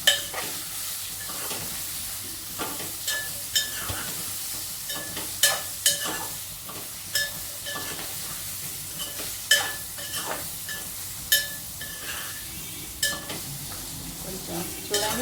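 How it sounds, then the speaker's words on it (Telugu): Sliced ridge gourd frying in hot oil with turmeric, a steady sizzle under repeated sharp scrapes and clinks of a spoon stirring against the pan. "ఇప్పుడు బీరకాయలు వేసుకుందాం. కొంచెం ఆయిల్ ఫ్రై కావాలి."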